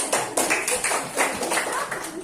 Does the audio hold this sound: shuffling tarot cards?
no